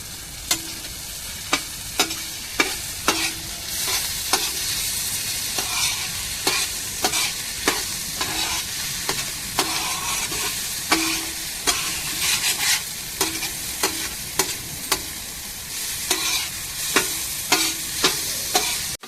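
Prawn fry sizzles in a hot pan with curry leaves, coriander and mint, a steady loud frying hiss broken by regular sharp spatula knocks and scrapes as it is stirred, close and with no talking.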